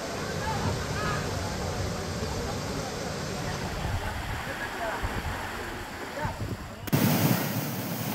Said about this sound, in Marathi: गणपतीपुळे मंदिराच्या बाहेरील प्रसाद रांगेपर्यंत समुद्राच्या लाटांचं पाणी शिरलेलं आहे।